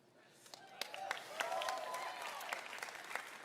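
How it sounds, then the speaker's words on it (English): Audience applause with scattered sharp claps at a livestreamed E3 2018 gaming presentation, building steadily from sparse claps into dense, sustained clapping across a large crowd. "Claps."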